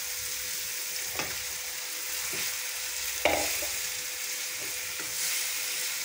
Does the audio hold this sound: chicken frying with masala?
yes